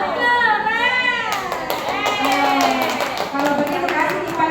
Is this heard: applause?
yes